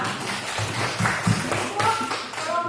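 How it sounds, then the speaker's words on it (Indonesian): A group of people clap for a class team, a dense spread of hand claps and taps running throughout, with voices mixed in underneath. "beri aplaus dulu untuk kelompok 2"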